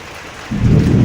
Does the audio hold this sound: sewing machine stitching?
no